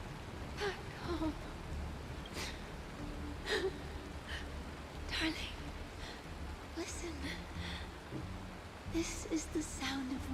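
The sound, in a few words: rain falling in the video game Honkai Star Rail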